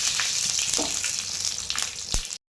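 Dried red chillies sizzle in hot coconut oil with mustard seeds and fenugreek, a steady close crackling fry with a few sharper pops near the end, alone without voices.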